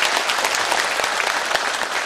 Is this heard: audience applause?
yes